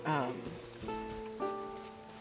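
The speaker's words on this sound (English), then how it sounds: "oh, of course it's raining" Steady rain patters softly in Genshin Impact's Fontaine region near Nouvelle, a quiet hiss beneath sustained tonal game music notes.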